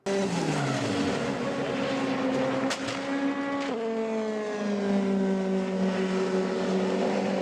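Formula 3 race cars circling a circuit, their engines howling loudly as they pass close, with pitch dropping on downshifts and a brief tire squeal; no speech.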